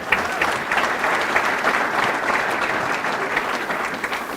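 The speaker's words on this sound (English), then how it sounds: "How about a round of applause?" Seated guests at a scholar-athlete awards ceremony give a round of applause, an even, close, continuous patter of many hands clapping for several seconds.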